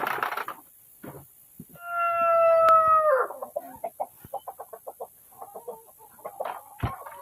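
Light Sussex hens on a farm, a burst of crowing followed by a rapid run of close, short clucks in an irregular rhythm, with no talk.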